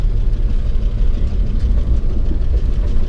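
A 1962 Plymouth Valiant, abandoned for over twenty years, drives down a side street on a test drive, its engine giving a low, continuous rumbling drone with a slightly rough, uneven character.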